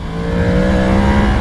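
A 2022 Yamaha MT-10 motorcycle engine holds a loud, steady, close roar with a slight upward pull through the whole moment, and no voices are heard.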